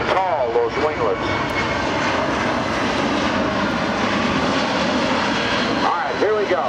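A USAF C-17 Globemaster III at an air force base airshow produces a loud, sustained engine roar throughout, with a public-address voice speaking over the noise.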